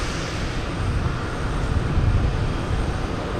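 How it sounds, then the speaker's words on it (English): An American Airlines Boeing 777 arriving from London Heathrow roars low and steady on approach to landing, a broad engine rumble with no voices. "here's the American Airlines 777, Boeing 777 coming in from London, Heathrow"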